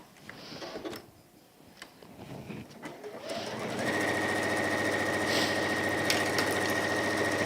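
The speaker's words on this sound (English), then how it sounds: "just sew up to the zip, holding stitch" Domestic sewing machine stitching a pouch up to its zip with a holding stitch, starting after quieter handling noises and then running steadily and loudly for several seconds.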